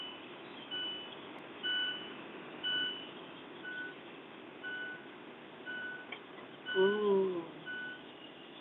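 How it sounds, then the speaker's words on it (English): A car's seatbelt warning chimes in evenly spaced beeps about once a second over road noise, and a voice briefly exclaims partway through. "I don't have my seatbelt on, so please don't be annoyed by the beeping."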